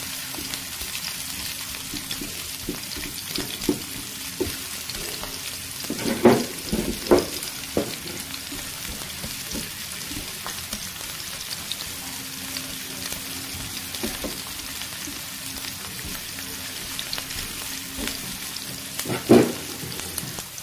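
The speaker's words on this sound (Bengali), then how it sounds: "এটাকে ভালো করে ভেজে নিতে হবে লাল লাল করে।" Food frying in a pan in a home kitchen: a steady, close sizzle runs throughout, with a few sharper clinks and scrapes of stirring near the middle and the end, and no voices.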